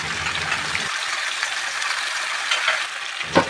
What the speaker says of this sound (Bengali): পেঁয়াজ আদা লঙ্কা টমেটো সব বেটে রেখেছি এখন একবারে সব দিয়ে দিচ্ছি